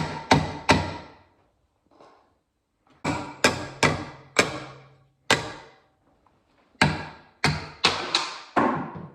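Sharp metallic hammer taps strike a tool to knock a part loose from an angle grinder or file setup, coming in quick clusters of two to five close, loud blows separated by brief pauses.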